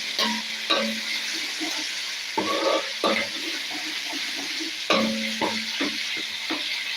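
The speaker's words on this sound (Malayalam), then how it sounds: "ആ മുളക് നന്നായിട്ട് ഇളക്കി കൊടുക്കാം" Chili is stirred in a hot frying pan, a steady close sizzle with periodic bursts of scraping and tapping from the spoon, no one speaking.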